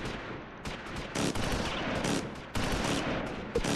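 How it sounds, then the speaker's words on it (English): Machine gun fire in the WWII strategy game Close Combat IV, set around Stavelot, Vielsalm and St Vith in December 1944: dense, sustained crackling bursts of automatic fire, loud and continuous, with sharper reports punching through. "those machine gun rounds are working perfect"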